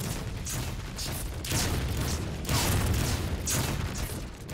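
Gunfire and explosions from the strategy game Dawn of War III, with several booming bursts and rattling volleys in a roughly regular rhythm over a constant dense battle din.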